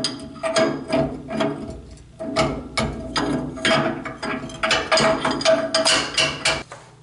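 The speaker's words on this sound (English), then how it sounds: "This is a 1-inch wrench, box open and wrench." A 1-inch combination box and open-end wrench ratchets around a pulley shaft, giving a steady series of close, loud metallic clicks and clanks in uneven bursts.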